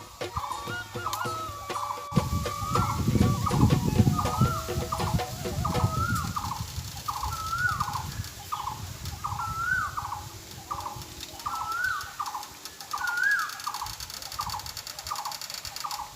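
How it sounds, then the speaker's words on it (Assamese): An Asian koel calls over and over in a steady, evenly spaced rhythm, somewhat distant, with low rumbling background noise early on. "কেতিয়া কুলিটোৱে মাতিব, কেতিয়া কুলিটোৱে মাতিব। মাতিলে।"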